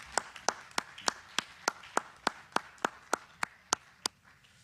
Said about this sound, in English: please join me in a round of applause for all those folks